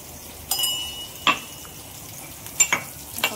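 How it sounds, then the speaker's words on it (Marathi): Garlic cooking in a hot pan on a griddle gives brief sizzling bursts and scraping stirs in a few separated strokes, with quiet gaps between and no talking. "थोडं पाणी घेऊया लसणाच्या याच्यात."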